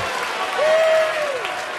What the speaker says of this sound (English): The crowd roaring their support at last.